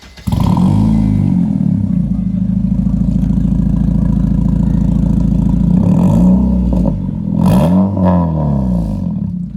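A 2007 Honda Civic 1.8 four-cylinder with an aftermarket cat-back exhaust revs loudly and close up, holding a steady raspy drone for several seconds before two sharp blips of the throttle, with no talking.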